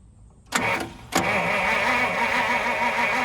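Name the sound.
1950 Pontiac starter cranking the engine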